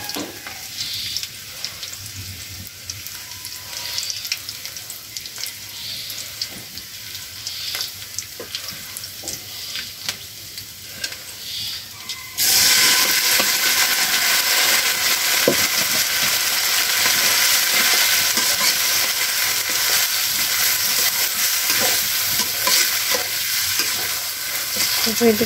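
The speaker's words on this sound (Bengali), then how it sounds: "পেঁয়াজটা হলো হয়ে গেছে, তো এখন হলো চালটা দিয়ে দিবে।" Rice with onions fries in a pan as it is stirred: quieter scraping and light sizzling at first, then a loud, continuous hiss for the second half.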